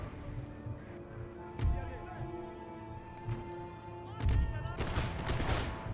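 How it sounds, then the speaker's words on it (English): Artillery and musket fire in the battle game Empire: Total War, scattered booms and crackling volleys at a distance, heaviest near the end, with someone talking over them. "The general's bodyguard is getting pounded by artillery."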